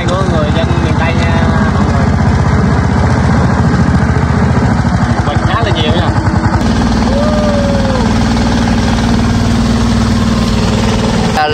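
Boat engine chugging steadily up close while cruising through the Mekong Delta countryside, a loud continuous drone with people talking over it.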